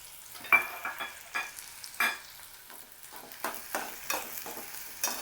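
Onion and green chili pieces fry in a pan for an Andhra-style prawn curry. A light sizzle sits under repeated scraping stirs and spatula taps, coming in uneven bursts about every half second, up close and moderately quiet.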